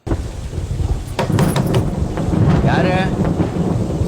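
A thunderstorm with steady heavy rain, loud and close, as a rumble of thunder builds over the constant downpour; a voice speaks briefly partway through.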